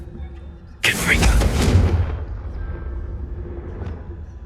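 A Confringo blasting spell explodes in the Hogwarts Legacy video game: a sudden loud burst of broadband noise with a deep rumble that slowly decays into a lingering low tail.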